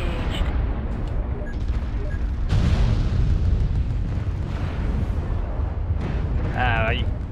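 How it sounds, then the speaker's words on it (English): Booming missile explosions in MechWarrior Online, rumbling in a dense, continuous roar of game combat with one heavier blast partway through and a brief alarm-like tone near the end. "Dang missiles."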